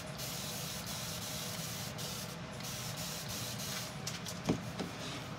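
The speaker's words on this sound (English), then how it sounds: "And I'm just gonna spray it with water." Spray bottle misting water onto a glow-in-the-dark dancing skeleton craft project, a faint, steady hiss running throughout, with a couple of small knocks near the end.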